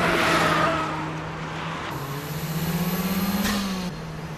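A Mazda RX-7 FC accelerating hard, its mid-pitched engine note climbing steadily through the gears with a brief dip at a shift, loud and close with no speech.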